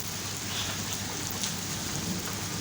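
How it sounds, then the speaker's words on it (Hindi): Heavy, continuous rain pours down in a steady wash of hiss on a hot summer day, with faint distant thunder and no voices. "ये देखिए मुसलसल बारिश हो रही है"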